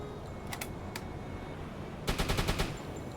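Bursts of machine gun fire in a video game: two short clusters early on, then a louder rapid string of about six shots near the end, with no talk.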